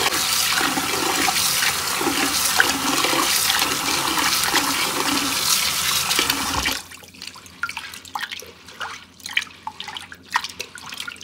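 Sago pearls being rinsed under a strong, steady stream of running water, loud and continuous for several seconds before the tap shuts off, followed by light drips and small splashes and handling noises in a kitchen.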